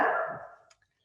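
A single close dog bark rings out loudly and then fades to silence within a second.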